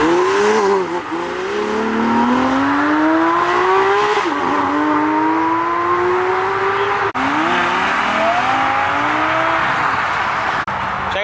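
A car engine revs hard at an exotic car show, pitch climbing in repeated sweeps as it accelerates and slides out, with squealing tires over the loud roar.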